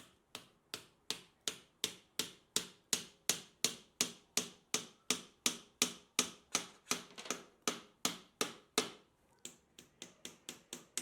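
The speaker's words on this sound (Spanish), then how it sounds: "Aquí el clavado debe de ser firme, continuo y sin levantar para nada el martillo." A hammer drives nails into a wooden mirror door frame with a cloth protecting the mirror, giving a long run of steady, evenly spaced, sharp taps with a brief pause near the end.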